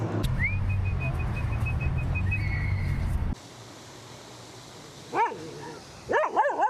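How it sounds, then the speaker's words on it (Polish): After a long whistle tone and a sudden drop in background noise, a dog barks twice at a distance, sharp yelps separated by a short pause. "No i psy standardowo"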